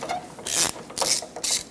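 Ratchet breaking loose a 12mm nut on the starter of a 1995-2004 Toyota Tacoma I4, three close bursts of rapid clicking with short pauses between them.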